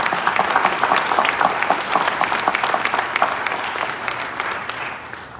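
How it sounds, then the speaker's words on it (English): A crowd at a Racine civic update on violent crime reduction gives uniformed police officers a round of applause: dense, sustained clapping from many hands that holds steady, then begins to thin and fade near the end. "Can we just give them a round of applause?"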